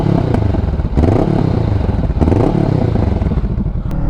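A Honda CBR500R motorcycle with a cheap aftermarket exhaust starts up close by, its engine catching and then running with a loud, raspy, uneven idle and brief blips of throttle.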